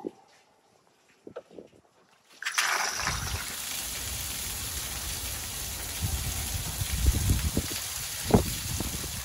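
Water gushes out of a pressure washer tank after the bottom plug is pulled, a steady close splashing stream that begins abruptly after a few quiet clicks and keeps pouring with occasional heavier splashes.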